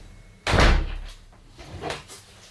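A door closed indoors: a single loud, close thud, followed by a softer knock and faint rattle as it settles.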